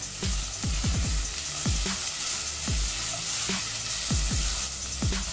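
Chopped onion from half a large head sautés in a pan, a steady close sizzle with repeated scraping stirs of a utensil throughout, no voices.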